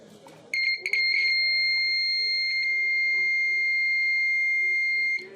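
A buzzer alarm on a breadboard soil moisture sensor built around an LM358 IC sounds a loud, steady electronic beep that holds continuously for several seconds after a few short bursts.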